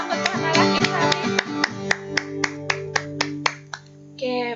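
A church congregation claps along in a steady rhythm, sharp even claps sounding over sustained singing or music until the clapping stops near the end.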